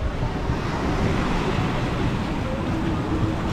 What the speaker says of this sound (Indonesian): Nah ini guys, suasana pantai di Waikiki Beach.